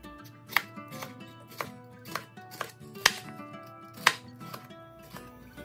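A knife slices green bell peppers on a cutting board, about ten crisp, evenly paced chops with a few louder strikes, close and quiet with no talking.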